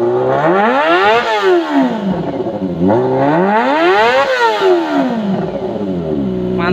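A Kawasaki ZX25R fitted with an aftermarket Aero exhaust revs hard and close, with its shrill inline-four wail sweeping up and falling back in three long surges before it drops toward idle.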